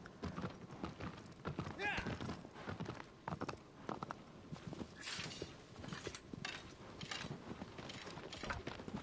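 Horse hooves clip-clop in Shadow of the Colossus on PS4, a quiet, uneven run of hoofbeats under game sounds while a voice talks over them.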